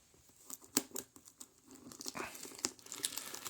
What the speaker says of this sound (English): Just get my little blade in here and slice that cellophane off